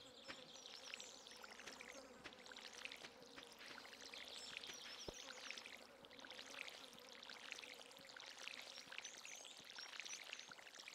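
Crops are watered in the Stardew Valley video game, with soft splashing pours layered over a constant buzzing, insect-like ambient hum at low volume and no speech.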